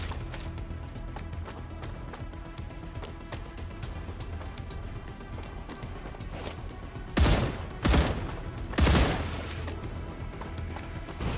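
Gunshots in a video game, three loud close booms in quick succession near the end, following a steady low background of game ambience.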